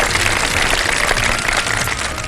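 Studio audience applauding on a Ramadan iftar game show, a dense, steady clatter of clapping hands that fills the whole stretch at fairly loud level with no talk over it.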